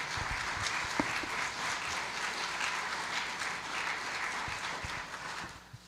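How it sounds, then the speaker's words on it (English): Audience applause at a community variety show, a broad, fairly distant wash of many people clapping, steady throughout and tapering off at the close, with a few isolated knocks. "give Vandy a wonderful round of applause"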